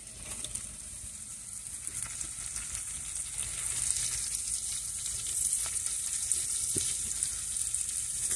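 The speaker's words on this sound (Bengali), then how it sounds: "চিংড়ি মাছগুলো পেঁয়াজ রসুন কাঁচা ঝালের সঙ্গে ভালো করে ভেজে নিব।" Shrimp frying in a pan with onion, garlic and green chili, a steady close sizzle running throughout with faint scrapes and a brief clink near the end.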